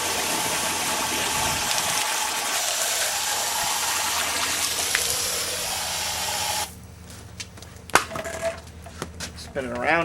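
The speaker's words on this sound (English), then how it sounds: "Fill it all the way up now with water." Water gushes steadily into a container to rinse off muriatic acid for mill scale removal, then cuts off, leaving faint clinks and sloshing.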